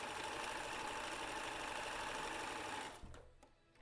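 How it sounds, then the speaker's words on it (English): A sewing machine lock-stitches fabric on an Ikea drum lamp shade, a fast, even mechanical whirr of needle strokes that stops after about three seconds, leaving a few quiet clicks. "Do a lock stitch, just like you're starting a regular seam."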